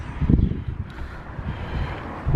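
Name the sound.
strong wind on microphone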